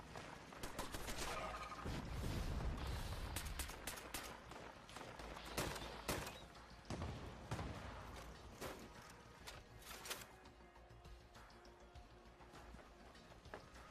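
Gunfire from automated turrets in the video game Fallout 76, a dense, continuous clatter of rapid shots and mechanical rattling with heavy low rumble, steady and loud throughout.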